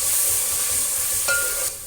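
Chopped tomatoes hit hot oil and spiced masala in a pan for channa kofta, bringing a sharp burst of sizzling over steady frying and stirring noise, loud and close, with no talking.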